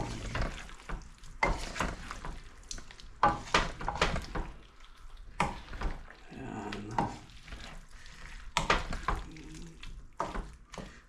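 Crispy binagoongan with jalapeño stirred in a frying pan, a steady scraping and sizzling with spoon clatter running throughout, close and moderately loud.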